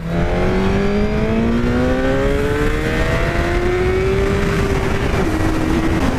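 A Suzuki GSX-R1000R motorcycle accelerates hard in second gear, its engine note climbing steadily in pitch as a loud, continuous, close roar.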